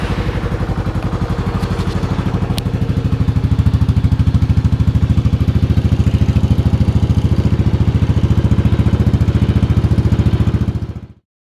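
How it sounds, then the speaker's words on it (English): A 2022 Kawasaki KLR650 motorcycle with its airbox snorkel removed idles loud and close, with a steady, rapid single-cylinder thumping and an aggressive intake note that holds evenly before cutting off abruptly. "I'll go ahead and start up the bike here."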